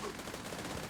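Rapid video-game gunfire, a dense stream of automatic shots packed tightly together, loud and close throughout a brief burst.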